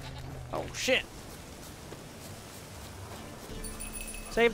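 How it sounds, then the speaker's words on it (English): A goat in Witcher 3 lets out a couple of short, wavering bleats, one early and one at the end, over quiet game ambience and soft rustling. "Save the goat!"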